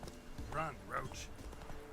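Roach, the horse in The Witcher 3: Wild Hunt, gallops with rhythmic clip-clopping hoofbeats under a voice.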